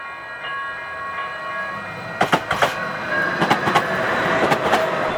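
TRAX light rail train wheels pounding over a bolted insulated rail joint, a steady rolling rumble broken by a cluster of sharp, loud bangs, then more repeated thumps as further wheels cross the joint.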